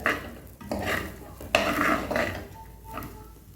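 Rice being stirred in ghee in a pot over a low flame for Malabar-style ghee rice, with scraping and clinking of a spoon against the pot and a soft sizzle, in uneven strokes close by.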